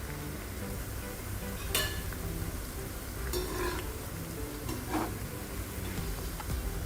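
Thin namkeen snack strips fry in hot oil over a medium flame, giving a continuous soft sizzle broken by a few sharp clicks and scrapes from stirring.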